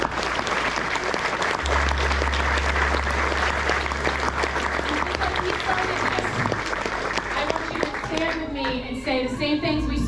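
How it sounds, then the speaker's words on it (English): An audience at a live entrepreneur event bursts into loud, sustained applause that fills the room for several seconds and thins toward the end, with voices mixed in. "I want you to give yourself a round of applause."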